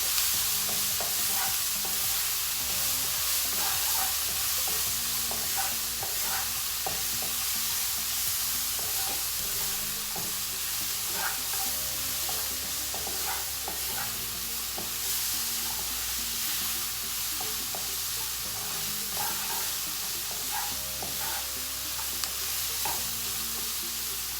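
Mixed vegetables stir-fry over a medium flame for paneer fried rice, a continuous close sizzle and hiss broken by frequent spatula scrapes and taps against the pan, with no voices.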